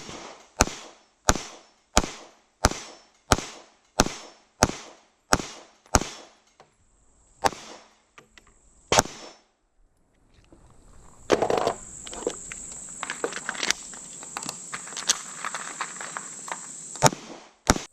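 A Sig P365 pistol fires about ten evenly spaced sharp shots, followed by a few scattered ones, then a quieter stretch of rustling and handling noise with occasional clicks.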